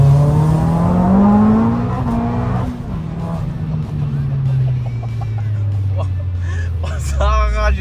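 A stage 4 tuned Abarth engine roars loudly from inside the car as it accelerates hard, its pitch climbing, dropping at a gear change, then rising again. Voices are heard under the engine.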